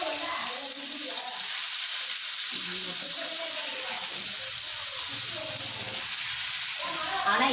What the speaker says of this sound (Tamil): ஆனால் இன்றைக்கி தானேப்பா நான் மீன் வந்து உட்காந்து வறுக்கிறதே